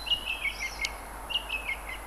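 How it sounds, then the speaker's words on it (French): Song thrushes sing nearby, repeating short, high whistled phrases in quick bursts against a quiet outdoor background. "Grives musiciennes. J'ai droit à un concert"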